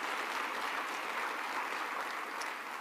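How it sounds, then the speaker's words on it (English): A dense, steady round of applause fills a State of the City address in Noblesville, Indiana, with many hands clapping continuously at moderate volume and no talk. "that's deserving of a round of applause."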